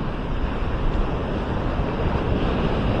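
Ocean surf on the shore at Maspalomas, Gran Canaria, on a morning with light wind, a steady low rumbling wash of waves with soft wind noise, continuous and moderately loud throughout.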